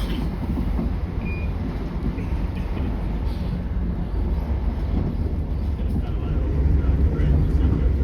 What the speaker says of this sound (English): Waiting for the train doors to open.